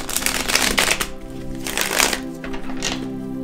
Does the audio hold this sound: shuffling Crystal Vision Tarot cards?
yes